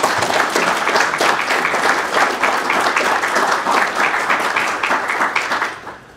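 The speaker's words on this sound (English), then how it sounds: "you deserve another round of applause" A large audience at an annual meeting breaks into sustained applause, dense steady clapping that holds loud for several seconds before tapering off at the end.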